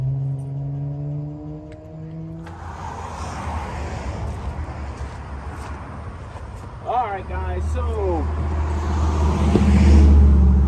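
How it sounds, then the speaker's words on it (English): Steady road noise inside a vehicle driving while towing a trailer, a continuous broad rumble and hiss that swells toward the end, with someone talking briefly over it at the start. "sorry about the road noise."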